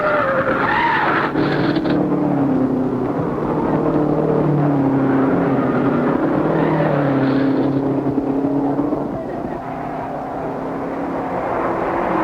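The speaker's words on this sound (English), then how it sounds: "While Wallard and Linden battle, Bettenhausen spins." A race car spins out during the 1951 Indianapolis 500, a sustained, loud engine and tire roar with wavering pitch, steady throughout and slightly easing near the end amid a distant crowd-like wash.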